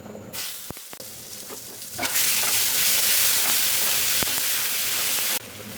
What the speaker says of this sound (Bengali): জিরে বাটা ধনে বাটা এগুলো সব কাঁচা টমেটো বাটা হলুদ হয়ে গেছে দিয়ে দেবো তেলের উপর